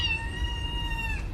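A cat meows once in a long, drawn-out, clear cry close by, rising slightly and then tapering off at the end, with a low room rumble underneath and no talking.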